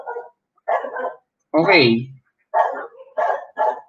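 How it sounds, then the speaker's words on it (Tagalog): A dog barks close by, a series of sharp yips and one longer whining bark, heard indoors over a man's brief spoken word. "Patahimik ko itong aso na to."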